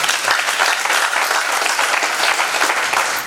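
An audience claps loudly and continuously, a dense, even round of applause that fills the whole short moment.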